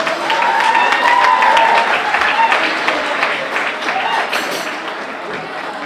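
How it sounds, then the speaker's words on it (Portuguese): Applause from a gala audience for Moisés Rodrigues at a Cape Verdean event, a steady dense clatter of clapping that stays loud throughout with a faint tone held in the background. "Nós estamos pedindo um salve de palmas gente para Moisés Rodrigues."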